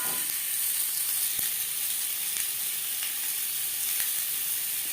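Diced, boiled potatoes fry in a pan with salt and turmeric, giving a steady, close sizzle with soft hiss and a few faint stirring clicks throughout, no voices.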